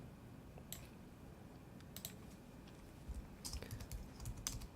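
Rapid keyboard typing with irregular clicks and short bursts of keystrokes, fairly close, over a quiet low hum.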